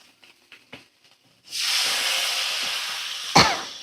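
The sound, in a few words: water added to frying fish, sizzling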